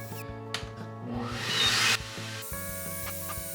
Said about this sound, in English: Okay, so rigid vacuum.